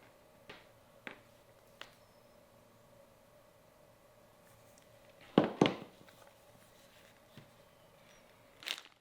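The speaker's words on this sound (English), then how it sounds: "To do this, I'm just using a standard rotary hole punch." A standard rotary hole punch cuts holes in a leather cuff bracelet, giving a few sharp, close clicks and crunches, with a tight double snap in the middle and a final click after quiet pauses.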